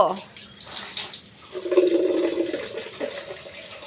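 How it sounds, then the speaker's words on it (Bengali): Water splashes and pours as a young girl bathes on her own, with irregular sloshing and a brief fuller rush of running water, while a voice talks intermittently. "দেখো গাইজ আমার মেয়ে স্নান করতেছে একা একা"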